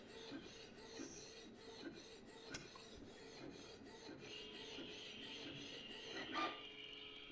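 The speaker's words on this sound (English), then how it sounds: "You can hear the printer head running, but you can't hear the scanner part at all." A Canon PIXMA TS3122 inkjet printer at work, its print head shuttling back and forth in quiet, regular scraping passes with a soft whirring rising near the end.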